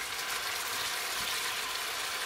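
Aloo gobi, potato and cauliflower with a little cumin, frying in a handi, makes a steady, even sizzle with a soft watery hiss throughout and no talking.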